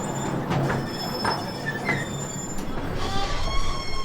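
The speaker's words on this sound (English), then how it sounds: "guided on this little tram that you sit on" A tour tram runs on rails through the Copper Queen mine in Bisbee, Arizona, a steady rumble of rolling wheels with high metallic squeals and screeches rising and falling throughout.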